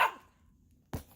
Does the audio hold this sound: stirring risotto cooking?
no